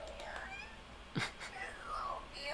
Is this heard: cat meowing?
yes